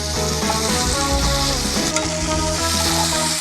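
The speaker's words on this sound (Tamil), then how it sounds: "இந்த தக்காளியும் நமக்கு வெங்காயம் வதங்கின மாதிரியே நல்லா நல்லா வதங்கணும்" Chopped tomatoes sauté loudly in a cooker with softened onions and masala for paneer biryani, giving a dense, constant sizzle and crackle close by with soft stirring movements underneath and no talking.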